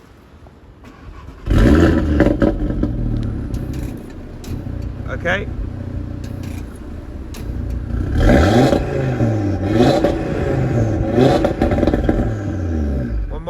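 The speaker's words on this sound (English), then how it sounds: "So we'll start the vehicle, give it a couple of revs in dynamic." An Audi TT RS roadster's engine starts with a sharp burst, then idles and is revved a few times in dynamic mode, each rev a rising and falling roar, while someone briefly speaks nearby.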